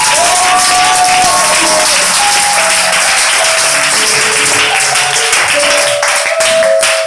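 A church congregation at an Easter service applauds and acclaims Jesus, loud sustained clapping filling the whole stretch, with raised voices and sung tones ringing over the applause.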